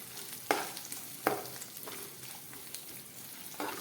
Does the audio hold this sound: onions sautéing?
yes